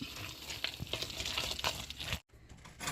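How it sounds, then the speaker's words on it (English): Spiced apple cake batter with nutmeg and cinnamon being mixed in a bowl, a close, continuous wet scraping and sloshing that stops abruptly for a moment near the end before resuming. "And then we're just going to mix it all up."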